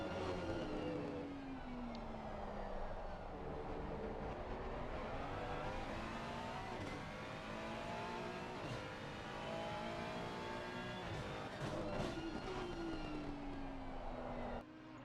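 A Ferrari race car lapping the Donington circuit in a racing video game, its engine note climbing and falling through gear changes, a sustained, moderately loud whine with downshifts and passing cars, alone without voices.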